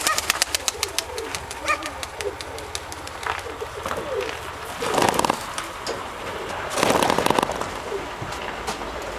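A speckled-necked dove outdoors on a calm day gives soft pigeon sounds amid a series of sharp, crackling bursts and claps, close and fairly loud, with a few louder flurries later on.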